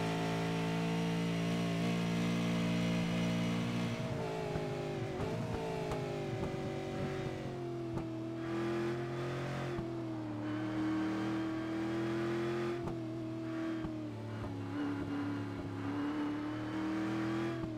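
A race car on the track at Canadian Tire Motorsports Park accelerates hard, its engine note climbing and shifting through gears in a sustained, loud roar that runs the whole stretch without any voices.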